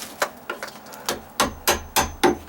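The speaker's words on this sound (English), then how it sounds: "And actually I was using the hammer" A hammer tapping on a wooden deck step during a squeak and dry-rot repair, seven sharp close knocks in an uneven rhythm with brief quiet gaps between strikes.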